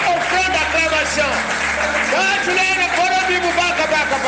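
A church congregation claps and cheers in worship, a steady wash of applause under a pastor's voice calling out over it throughout, with a low sustained tone beneath.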